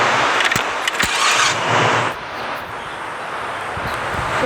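A modified Honda Civic EK9 with a swapped-in 4.5-litre V8 starts up: sharp cranking bursts in the first two seconds, then a steady close idle rumble.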